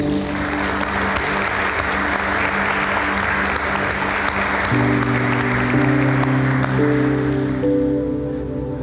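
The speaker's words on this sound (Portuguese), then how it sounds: "Você pode aplaudir o Senhor por isso?" A church congregation applauding during a sermon, dense sustained clapping from a large crowd, with a held musical tone swelling up beneath it partway through.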